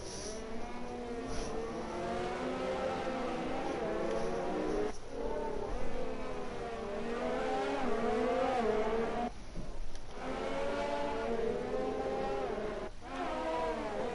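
Formula 4 cars in a sim racing game at Abu Dhabi weave to warm their tyres, engines droning and revving steadily with rising and falling pitch, several cars overlapping at moderate distance, no talk.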